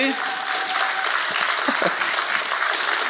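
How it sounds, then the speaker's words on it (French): An audience applauds a guest arriving on stage at a French-language show, with steady broadband clapping through the whole stretch and some voices mixed in underneath. "Alors je vous demande d'applaudir notre prochain invité."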